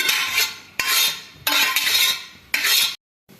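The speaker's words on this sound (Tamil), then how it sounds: "இப்போ நம்ம வேக வச்ச பருப்பை ஒரு கடாயில் மாற்றிக்கலாம்." Cooked dal scraped and stirred into a kadai for puran poli, a series of four loud bursts of spoon-on-metal scraping and rubbing, each lasting about half a second to a second, separated by short pauses.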